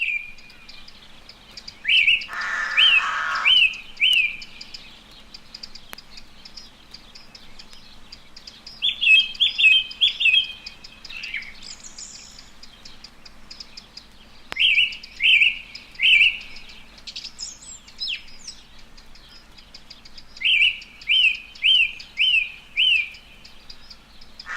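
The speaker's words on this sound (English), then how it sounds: "a song thrush sings to the accompaniment of rooks and chiding wren" A song thrush sings repeated bright phrases in an exposed coastal wood, each burst of notes separated by pauses, while rooks caw and a wren chides in the background; no voices.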